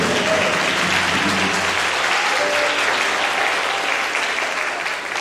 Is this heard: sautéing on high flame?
no